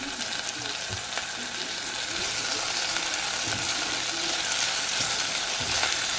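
Okra fries in a pan with a steady, close crackling sizzle that runs throughout, broken by a few faint clicks of stirring.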